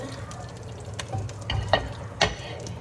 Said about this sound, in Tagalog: igisa ko yung bawang sibuyas, luya